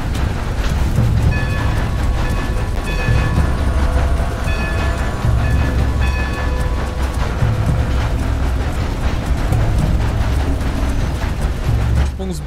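A steam-era train passes in the video game Red Dead Redemption 2: a loud, steady rumble of rolling wheels and rattling cars fills the whole stretch, with faint clicking of the rails underneath.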